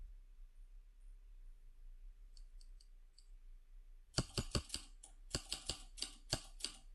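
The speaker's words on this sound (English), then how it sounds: "This is typewriter. Okay, typewriter effect" A typewriter sound effect plays as a preview inside Canva: faint clicks at first, then a quick run of sharp, close mechanical key strikes in an uneven typing rhythm.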